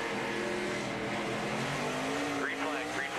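NASCAR Nationwide Series race cars at Phoenix taking the green flag, heard from an onboard camera: a steady, loud engine drone with rising revs and brief tire squeal near the end, a radio voice briefly over it.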